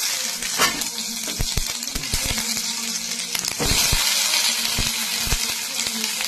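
Onion frying in a little oil in a kadai while chicken stomach is being cooked, a steady loud sizzle broken by clinks and scrapes of stirring against the pan.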